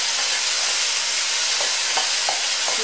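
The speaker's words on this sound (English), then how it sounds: "While the meat's browning, you're also going to put in the onion and the garlic." Ground bison and beef browning with chopped onion in a pan for game day chili, giving a loud, dense, continuous sizzle up close with a few faint stirring knocks.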